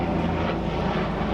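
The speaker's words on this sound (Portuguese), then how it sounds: "Tinha que passar no meio do texto bíblico um helicóptero." A helicopter passes overhead, a loud, steady rotor and engine roar that fills the moment with no talk over it.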